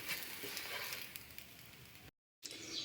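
Eggplant slices frying lightly in hot oil, a soft, steady crackling sizzle at low volume that cuts out briefly to silence and then resumes.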